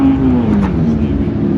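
A McLaren turbo V8 supercar driving on the Brands Hatch circuit, its steady engine note droning loud and close with a gently falling pitch, under light talk.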